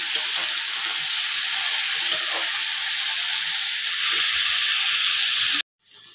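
Potato and pointed gourd curry fries until reddish, giving an even, hissing sizzle with soft stirring underneath that runs steadily up close and then cuts off abruptly near the end.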